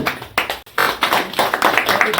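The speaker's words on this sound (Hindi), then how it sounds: "तो जेपी जी के लिए तालियां।" An audience at a business meeting claps, with uneven bursts of hand claps rising and falling and a brief drop partway through, fairly close and moderately loud.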